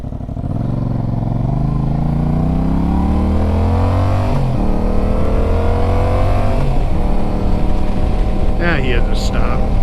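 A Yamaha MT-07 motorcycle engine revs hard up and down through double-clutched shifts. The pitch climbs and drops as the throttle blips, loud and close, with steady wind rush underneath.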